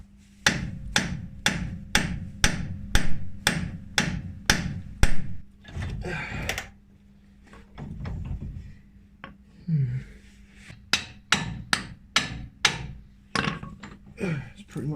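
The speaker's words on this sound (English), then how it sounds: "we're basically just going to bang the drive shafts out" A hammer bangs the drive shafts out of a Puma car during an engine bay strip-down. Loud, close, rapid metallic blows come in steady bursts, pause briefly, then resume in another quick run.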